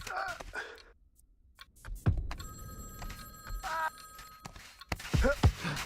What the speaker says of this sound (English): That's not the alarm clock, it's a phone